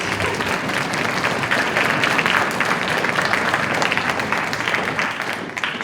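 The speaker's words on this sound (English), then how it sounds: "we can give Mrs. Jaques a round of applause" An audience at a sixth-grade school band and orchestra concert applauds the orchestra teacher, a dense, steady burst of many hands clapping that fills the hall for several seconds.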